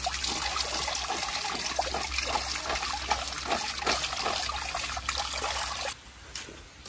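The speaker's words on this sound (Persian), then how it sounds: "اگه حرف نزنی صدای آب میشه." Water trickling steadily in a home kitchen, a bright close splashing stream that runs for several seconds and then cuts off abruptly, leaving a few faint drips.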